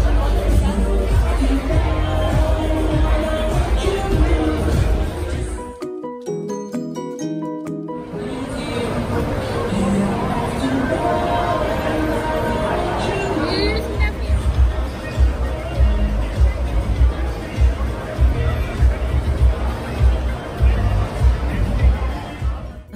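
Busy crowd chatter at The Wharf, a waterfront venue in Miami, on Memorial Day weekend: a dense babble of many voices close and distant, with a brief quieter patch partway through.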